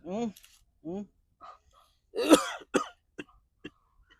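A man coughs and clears his throat in a few rough, separate bursts, close and fairly loud, with short pauses of silence between them.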